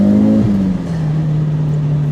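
A Mitsubishi Evo V, a roughly 1,450 kg all-wheel-drive car, is being driven; its engine drones in a steady low hum from inside the car, with the pitch dipping slightly as it settles.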